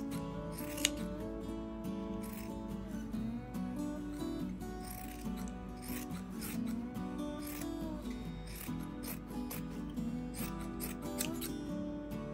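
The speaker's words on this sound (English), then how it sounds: "Now we're just gonna cut these out." Scissors cut out fabric pieces for a Thanksgiving fall decor craft. The snipping runs steadily and fairly close for the whole stretch, over a constant tonal background, with no talking.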